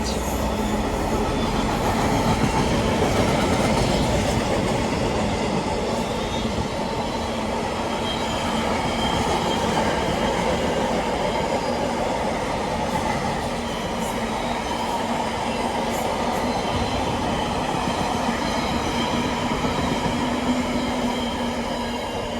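A long freight train rolls past a station in Oxfordshire, a continuous heavy rumble with grinding wheel noise that holds steady for the whole stretch, fairly loud and close.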